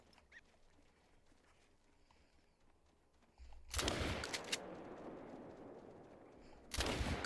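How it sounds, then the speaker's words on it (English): A rifle is fired in theHunter Call of the Wild, with two loud, sharp reports a few seconds apart that each leave a long rumbling decay over quiet outdoor ambience. "let me fire a rifle first"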